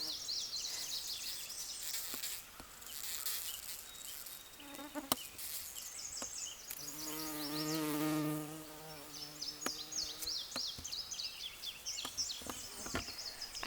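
A bumble bee buzzes steadily around comfrey flowers outdoors, its drone swelling as it passes close, with a continuous insect hum and chirping birds in the background.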